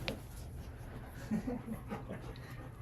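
A dog whimpers softly in a few short, high whines and pants faintly nearby in a quiet room.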